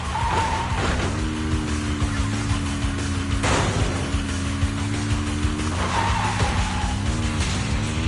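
A car in Zenless Zone Zero drives hard with a steady engine note and repeated tire squeals and skids, several sharp impacts punctuating the run, no voices.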